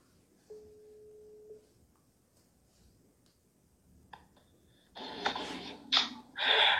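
A phone call being placed, heard as a single faint tone followed by soft clicks. Then comes a louder burst of ringing or connection noise in irregular pulses toward the end.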